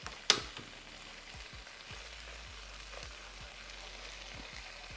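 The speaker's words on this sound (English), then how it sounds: "So you fry that really good." Garlic frying in a pan with a steady, soft sizzle throughout, a brief clatter near the start and faint periodic stirring or scraping underneath.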